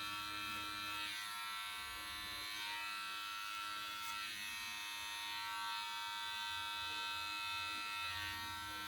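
Electric hair clipper buzzing steadily close by as it cuts hair, using the edge of the blade during a home haircut, a constant high whine with slight shifts in pitch and no talking.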